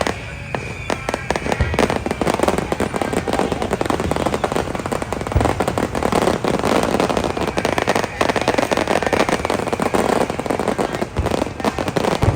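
Firecrackers burst nonstop at a temple chariot festival, a dense crackling rattle of rapid pops that keeps going throughout, loud and close, with voices faintly underneath.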